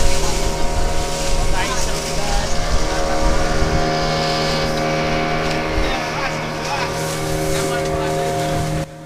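A boat cuts through sea waves off Pangandaran beach, a steady loud engine drone with rushing water and wind buffeting throughout, with people talking over it.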